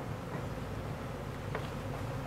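Bees hum in a steady, soft drone around wooden beehive boxes during a cajeput honey harvest, with a faint brief rattle partway through and no talking.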